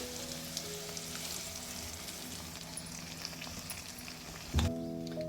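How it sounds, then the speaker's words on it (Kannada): Curry leaves with cashews and green chillies sizzle steadily in a hot pan of oil for rava idli, a continuous close crackle with a brief louder clatter near the end and a faint tonal hum underneath. "ಕರಿಬೇವು ಒಂದು 30 ಸೆಕೆಂಡ್ಸ್ ಬಾಡಿಸ್ಕೊಳ್ಳಿ"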